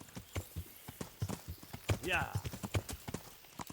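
Horse hooves clip-clop in a rapid, even rhythm in the Kingdom Come: Deliverance video game, with a brief whinny partway through and someone speaking briefly over them.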